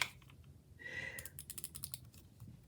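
Quiet keystrokes on a computer keyboard, a short burst of rapid clicks near the end after a brief pause, close by, with no voices.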